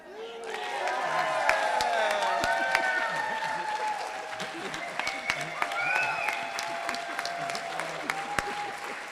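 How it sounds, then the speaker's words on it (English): A convention crowd at an Episcopal diocese gathering honoring a retirement claps and shouts. Sustained, moderately distant applause with whoops and cheering voices rises and falls throughout. "we just have to shout and clap about it for a bit"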